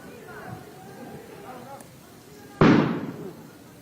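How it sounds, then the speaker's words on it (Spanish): A single loud, sudden explosion goes off inside a narco bunker during a police operation, a heavy boom decaying over about a second, with people talking just before it. "Se produjo una explosión adentro."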